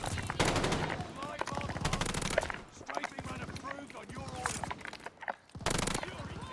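Automatic weapon fire in Call of Duty, several long rapid bursts of sharp gunshots separated by short pauses, loud and close, with someone talking over and between the bursts.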